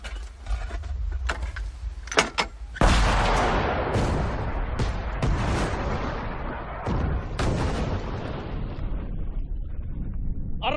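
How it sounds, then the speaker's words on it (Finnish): An artillery battery opens fire in a Finnish war film, heavy booming shots and blasts rolling one after another, loud and close, with a few sharp cracks before the main barrage. "Koko mekka ampukaa!"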